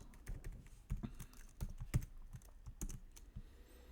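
Light typing on a computer keyboard, soft scattered key clicks in an irregular rhythm with a few firmer taps, close and quiet.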